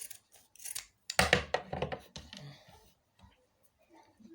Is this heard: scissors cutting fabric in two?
yes